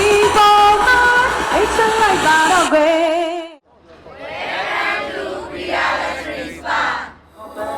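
A large crowd at an opening ceremony holds a loud sustained collective shout, then breaks into waves of cheering and applause that swell and fade.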